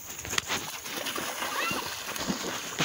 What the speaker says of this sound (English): Run and jump in the water.